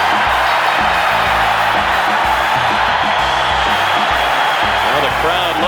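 An NHL hockey arena crowd roars and whoops during a fight involving Ken Baumgartner. The cheering stays loud and continuous, with a commentator talking over it.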